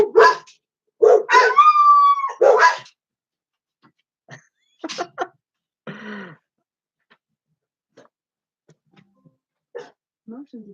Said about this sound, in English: Just my dogs in the background